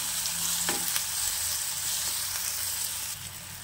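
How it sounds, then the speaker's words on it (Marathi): Chopped tomatoes sauté in a pan for a matki (moth bean) curry, giving a steady, close hiss of sizzling with a few faint stirring taps throughout. "टोमॅटो मऊ होईपर्यंत मी असंच परतवणार आहे।"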